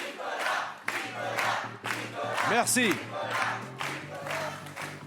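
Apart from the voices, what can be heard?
studio audience crowd chanting the name Nicolas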